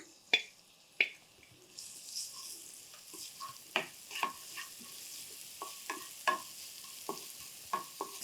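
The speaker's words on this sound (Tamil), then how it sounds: "இந்த எண்ணெயில் இதை கொஞ்சம் ஃப்ரை பண்ணணும்" Crushed pepper and garlic fry in sesame oil with a faint, quiet sizzle. Scattered sharp clicks of a utensil stirring against the pan punctuate it, and no voices are heard.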